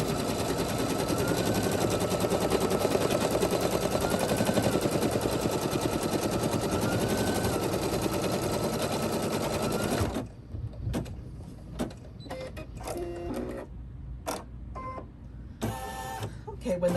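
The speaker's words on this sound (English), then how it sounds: "The first thing it's going to do is it's going to stitch the placement stitch" Embroidery machine stitching the placement outline for a patch, a loud rapid mechanical chatter running steadily for about ten seconds, then stopping and leaving scattered clicks and handling noises.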